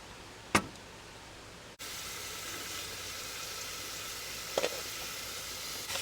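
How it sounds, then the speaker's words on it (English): Vegetables sauté in hot olive oil with a steady, even sizzle that starts abruptly after a brief quieter stretch, with a couple of soft clinks from a utensil in the pan. "I'm just going to heat up a little olive oil and then saute those veggies"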